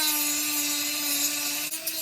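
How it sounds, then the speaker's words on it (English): A Dremel rotary tool cuts out a plastic window on a 1/28 scale FPV model car, giving a steady, close, high-pitched whine with a constant tone for about two seconds and a brief dip near the end. "I'm going to cut along here now with the Dremel"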